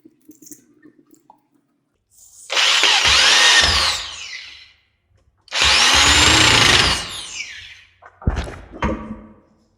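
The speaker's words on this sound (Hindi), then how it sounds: "ये दोनों स्क्रू इसके फिट कर देंगे।" A power tool whirs in two long, loud bursts close by during work on a 7 kg demolition hammer repair, followed by a short whine and clunks, with quiet knocks and ticks beforehand.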